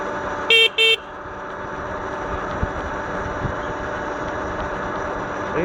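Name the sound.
car horn honking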